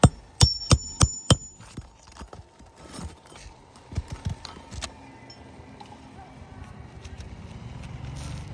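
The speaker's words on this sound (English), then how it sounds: "Every time I hit it with the hammer, as you can see, the granules are rolling off the roof." A hammer strikes a shingled roof several times in sharp, evenly spaced knocks, then hits more sparsely. A faint gritty rustle of loose granules follows.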